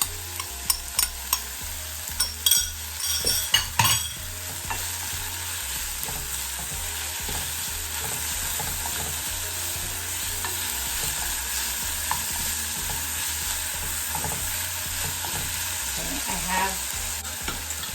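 Crushed dry chili peppers frying for dal puri fill the space with a loud, steady close sizzle, while several sharp spoon scrapes and knocks from stirring land in the first few seconds and the sizzle carries on alone after that.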